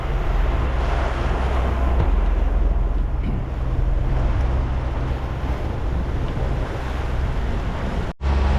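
Sailboat underway on open water in the Bahamas heading toward the Gulf Stream, with steady loud wind buffeting the microphone and the constant wash of waves against the hull, ending in a brief dropout.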